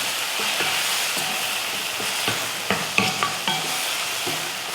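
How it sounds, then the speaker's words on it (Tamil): Tomato, bitter gourd and onion sautéing in oil, a steady close sizzle with scattered spatula scrapes and stirring clicks, a few sharper taps near the end, no voices. "இந்த தக்காளி, பாவக்காய், அந்த வெங்காயம் கூட நல்லா வதங்கட்டும்"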